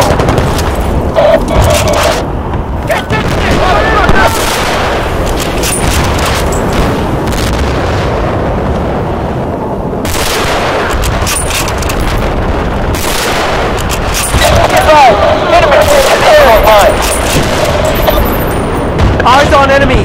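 Artillery booms and gunfire from the video game Battlefield Bad Company 2, set in Arica Harbor, with dense continuous explosions and shooting throughout, and game voices calling out over the battle.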